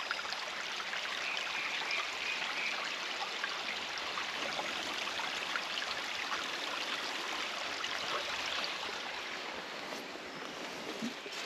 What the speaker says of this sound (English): Another river.